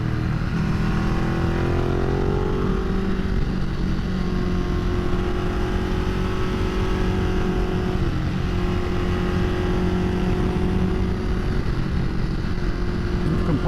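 A 2010 Ducati Multistrada 1200S motorcycle hums steadily while riding, its engine note rising and settling under continuous road and wind noise throughout.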